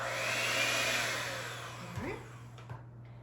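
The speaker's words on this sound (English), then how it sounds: "You can see that the blender's starting to make some noise there." A kitchen blender churning thick spiced pecan eggnog cookie dough, a steady whirring motor that strains and slows with bumps near the end before cutting off.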